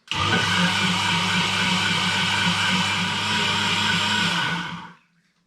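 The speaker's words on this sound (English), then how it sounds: "I'll get my lid on and I'll blend." A kitchen blender whirs steadily as it mixes brew sugar and water for a rum and apricot strong ale, a loud continuous motor drone lasting about five seconds before cutting off abruptly.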